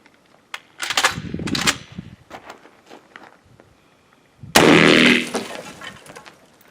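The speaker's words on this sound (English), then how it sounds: "we're going to shoot the last exploding slug at a block of solid ice" A DP12 shotgun fires an exploding slug at a block of solid ice outdoors on a range, one loud sharp blast with a short ringing tail, preceded by scattered clicks and handling noises.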